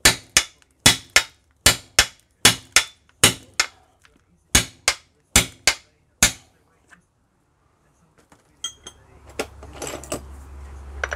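Hammer striking a drift to knock out a stuck kingpin on a Citroen 2CV, about a dozen sharp metallic blows in an uneven rhythm, then quieter clatter and shuffling.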